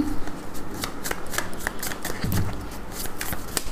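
Cards shuffled for a tarot-style card reading, a close rapid series of crisp riffling and flicking bursts repeating throughout, without talk.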